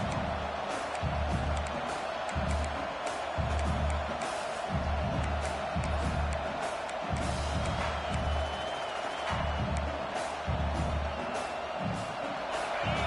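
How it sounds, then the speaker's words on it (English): A large college football stadium crowd in a video game roars and murmurs continuously, a dense wash of cheering voices with occasional thumps beneath. "Listen to the crowd energy here in the early going."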